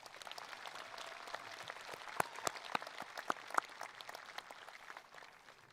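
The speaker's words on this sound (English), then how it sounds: "please give these dedicated CHS employees a well-deserved round of applause" Faint, distant applause rolls on at a graduation ceremony, a soft wash of clapping with a few sharper individual claps standing out near the middle.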